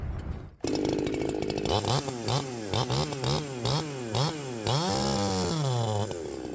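Freshly built Echo 4910 chainsaw with a new Archer 325 chain, starting up and roaring close and loud, its engine revving up and down in repeated rising and falling surges before holding a steady high whine.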